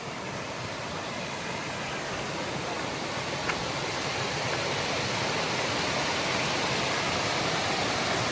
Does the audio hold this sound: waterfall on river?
yes